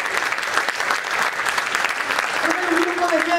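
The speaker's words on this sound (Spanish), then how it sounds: "Dale ese aplauso fuerte al Señor." A church congregation gives strong applause during a sermon, steady dense clapping throughout with crowd voices and a faint sustained tone rising near the end.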